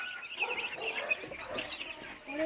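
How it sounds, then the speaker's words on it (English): A crowd of baby chicks at a chicken farm peep and cheep busily at feeding time, many overlapping high chirps close by with a little background clatter. "Feed up time for the birds."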